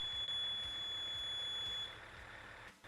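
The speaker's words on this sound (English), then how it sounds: "An intermittent warning buzzer will also be heard." A crane's rated load indicator sounds its warning buzzer as a steady high electronic tone for nearly two seconds, then stops, over a low rumbling engine background.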